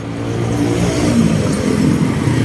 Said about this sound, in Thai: การเร่งรีบการสัญจร